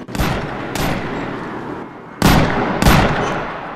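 Gunfire in a Guerrilla Games action game mix: sharp, loud shots at about four points over a few seconds, each burst dense and reverberant, layered over a steady rumbling ambient bed.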